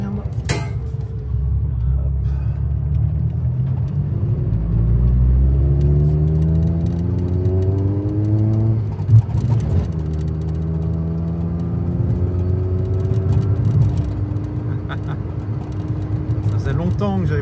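A Peugeot 106 engine runs while driving, a steady mid-pitched hum that rises and falls through several gear changes, with a faint click near the middle.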